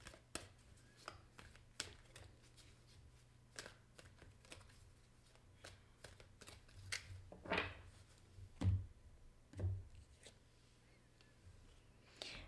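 Cards are shuffled and drawn during a tarot-style card reading, giving a run of soft, close, sharp snaps and flicks, with a few louder thumps near the end over a low steady hum.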